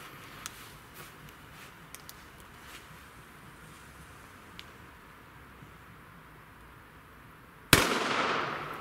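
A B-Böller firecracker explodes outdoors with one sharp, loud bang near the end, followed by a noisy decaying tail after a long quiet stretch with faint ticks.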